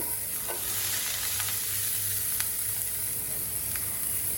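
Helencha greens frying with potato in a pan make a loud, continuous sizzle with a constant steamy hiss, broken by a few faint scrapes of stirring, and no voices.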